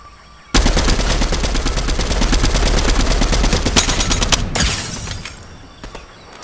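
Sustained automatic gunfire in the video game Fortnite, a loud, dense burst of rapid shots running several seconds, then fading into scattered cracks and breaking sounds.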